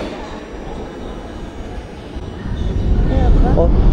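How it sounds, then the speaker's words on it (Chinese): A train rumbling past overhead while a family waits in a queue below: low broadband roar that swells louder in the last second and a half, with faint talk in the background. "有没有听见声音？ 火车的声音，"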